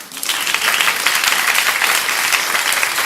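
An audience at a school's fiftieth anniversary celebration breaks into dense, even applause for drummer Seb, a close, full wash of clapping that carries on steadily without pause.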